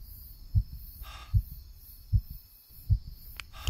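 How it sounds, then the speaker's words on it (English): Heartbeat effect from the horror video game Devil in the Pines: four slow, regular deep thumps, evenly spaced about a second apart, up close and alone over a faint high hum. "Is there a reason why I have a heartbeat going on already?"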